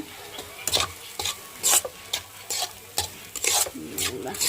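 Curry fry sizzling in a pan as a spoon stirs it, with rhythmic scraping strokes and clinks of metal against the pan over a steady frying hiss, close and distinct.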